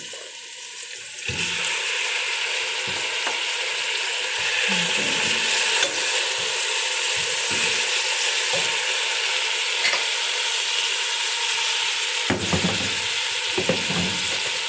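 Meat drops into a hot pan and erupts into a loud, sustained sizzle, with a quieter hiss before it and repeated scraping stirs and clacks from a utensil throughout, no speech.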